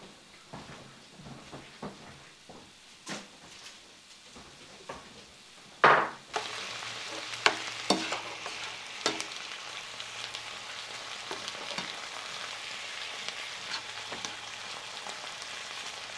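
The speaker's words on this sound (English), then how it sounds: "let me continue to cook this hamburger meat till it's completely brown" Ground hamburger meat browns in a pan, a steady close sizzle with scattered spatula scrapes and taps; a loud clatter near six seconds and the frying grows denser after it, with no talking.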